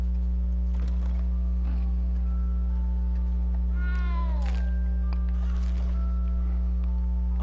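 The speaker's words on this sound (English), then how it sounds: "You don't need to be frightened, little cat." A cat in a PlayStation 4 video game gives a single rising-and-falling meow midway, heard over a loud, constant electrical hum that runs throughout.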